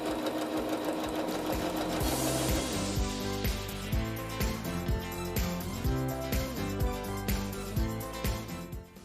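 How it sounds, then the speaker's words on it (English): A sewing machine runs steadily, stitching a waistband onto a side-pleated skirt with a tunnel waistband, its motor hum and needle clatter loud and close, with brief pauses in rhythm and no talking. "I am sewing the waistband to the skirt."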